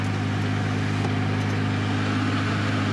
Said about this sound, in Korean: 블로모터 소리가 나네